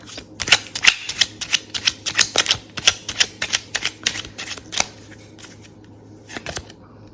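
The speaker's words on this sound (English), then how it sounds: "my favorite playing card deck" A deck of playing cards being shuffled up close, a fast series of sharp riffling snaps and flicks in irregular bursts, loud and crisp, thinning out toward the end without talk.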